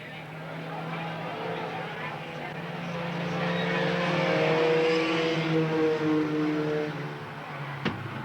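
Race cars at Eugene Speedway, including a Mazda and a Honda, drone past at a distance. Their engine pitch rises and falls as they circle the track, and a commentator talks over the sound.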